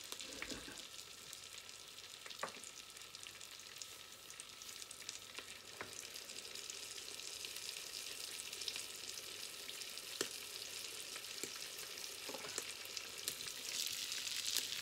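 A gluten-free keto croque monsieur fries in plenty of butter in a pan, giving a steady, close sizzle with occasional sharper crackles and pops throughout.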